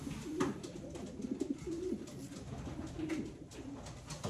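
Pigeons coo in a loft during breeding pairing, several low rolling coos repeating close by over a steady background rustle.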